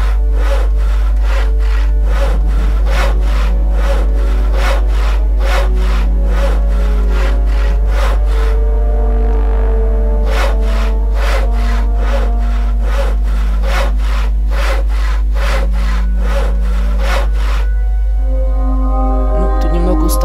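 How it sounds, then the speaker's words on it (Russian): A saw works through wood in the video game Gothic, each stroke a loud, raspy, evenly spaced rub repeating steadily with a brief pause midway, over a constant low game hum. "Давайте попилим."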